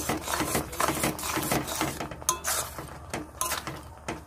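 A spatula scrapes and clinks around a pan of raw mango jelly with sugar in quick, uneven strokes, close and fairly loud, with a soft bubbling hiss underneath.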